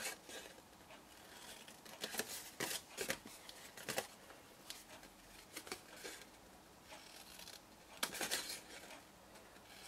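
Scissors trimming paper card around a small square, heard as a quick run of crisp snips and rustles, close and quiet, with short pauses between the cuts.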